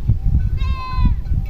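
One loud, close goat bleat, a wavering nasal cry of about half a second, rises over low rumbling background noise.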